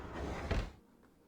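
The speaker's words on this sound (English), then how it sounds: "Doors open." Bakerloo Line train doors opening in Train Sim World 2, a short pneumatic whoosh and slide ending in a soft thud, then quiet.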